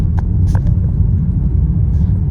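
A car rolls over cobblestones, giving a loud, steady low rumble with a few faint higher taps from the tires and cabin, heard from inside the car without talking.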